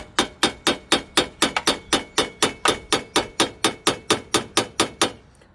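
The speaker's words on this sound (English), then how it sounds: "Tap it. Little taps go better than big blows." Rapid, steady metallic hammer taps strike a seized part on a 1973 Yamaha Gemini Boss 80, one hammer driven against another held on a rag; about twenty close, crisp, evenly spaced blows, loud and alone.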